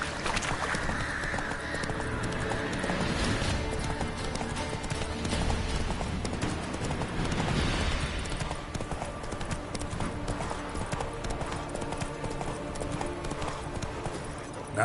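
Roach the horse gallops in a video game, a fast rhythmic run of clip-clop hoofbeats heard close and steady throughout, with brief background voice and ambient game sound.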